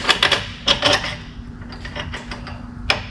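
Metal tools clink and ratchet as bolts are started on the driveshaft of a Lincoln Town Car during a P71 driveshaft install, with sharp close taps and short clicks separated by brief pauses, alone without talk.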